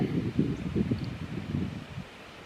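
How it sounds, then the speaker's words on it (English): Wind blows steadily across an outdoor spot where a rifle buffer is being weighed, a broad, low rushing roar that gusts unevenly and eases off near the end. "Like I said before, it's windy out."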